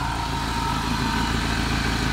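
Mercedes M111 car engine running steadily just after being started, with a blown head gasket and a knocking motor; a continuous close, loud idle with a rhythmic low pulse and no talk.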